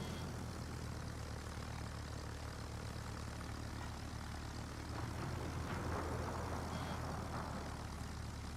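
Aircraft engines drone over a naval battle in the World of Warships game, a steady, dense propeller hum that continues unbroken, with a slight swell near the middle and no talking.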